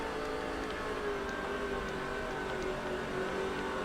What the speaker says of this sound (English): Start listening for odd race car sound.